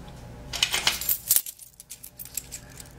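A dime dropped and handled while setting up a tattoo machine liner gives a run of light, bright metallic clinks and rattles, close and fairly soft, with no voices.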